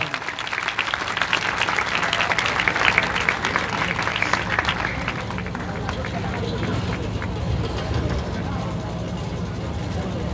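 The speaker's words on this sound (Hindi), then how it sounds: "वो आप जोरदार तालियों से स्वागत करेंगे।" An audience at a Swami Vivekananda birth anniversary program in 2024 welcomes a guest with loud, dense applause that gradually thins, accompanied by crowd babble and a low background rumble.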